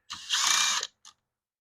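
A ratchet driving a Torx T25 bit to back out screws on a 2015 Ford Escape 1.6 liter engine: a close, rapid clicking run followed by a single short click, then quiet.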